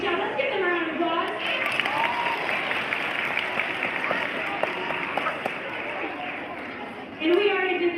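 Applause from a crowd at a school assembly, a dense wash of clapping heard at moderate level, with a voice talking briefly at the start and again near the end.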